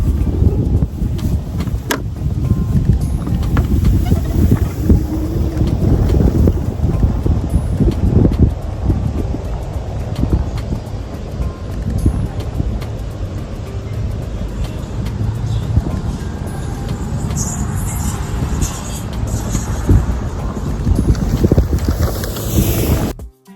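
A Foholo F15 electric scooter in mode 3 rides across a grass field with a loud, continuous rumble, and heavy wind buffets the microphone throughout.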